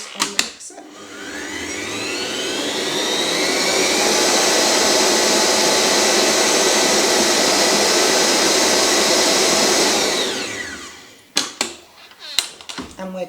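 An electric stand mixer whips a batch of vegan buttercream with icing sugar and cocoa powder. It gives a loud, steady motor whir that runs for about ten seconds and then stops, followed by a few brief clatters.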